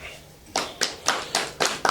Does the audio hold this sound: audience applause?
yes